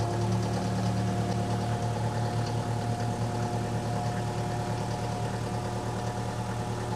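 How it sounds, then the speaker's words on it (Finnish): A homemade small front loader's engine idles steadily at low revs with a continuous, even mechanical rumble and faint knock, close by and unbroken throughout, with no voices. "Ja kone lähtee heti hyvin käyntiin."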